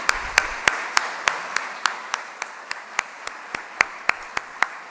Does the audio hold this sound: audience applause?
yes